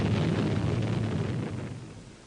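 A nuclear bomb blast from declassified archive colour film: a broad, loud roaring rumble that slowly fades away over a couple of seconds, with no talking.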